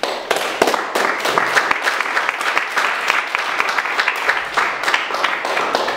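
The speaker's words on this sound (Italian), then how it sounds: "Questo applauso va a Sheriff" An audience at an evening reading applauds warmly, with dense, lively clapping and crisp individual claps throughout, near and loud, sustained for several seconds.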